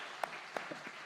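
A church congregation claps in a short, sparse burst, a few distinct hand claps sounding faint and somewhat distant in a reverberant hall.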